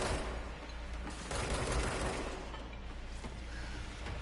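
Rapid gunfire from shooting at a floating orb in the video game Control, a dense continuous barrage of shots with a heavier burst in the middle, loud and sustained throughout.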